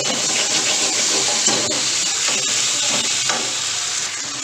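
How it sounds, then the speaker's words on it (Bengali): Spices sizzle in hot ghee in a pan while the masala is prepared for stuffed pointed gourd (potol dorma). The frying hiss is close and steady, with light stirring throughout. "ব্যাস এবারে এটাকে ভালো করে ভাজা ভাজা করব।"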